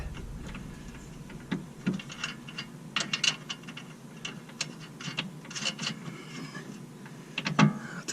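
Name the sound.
tightening new nuts on BMW E90 lower control arm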